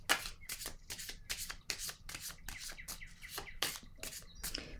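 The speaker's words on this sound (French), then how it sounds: "Je vais déposer une carte sur la vérité." Tarot cards shuffled and laid down, a fast series of crisp close riffling snaps and flicks in an uneven rhythm, loud and clear with no talk.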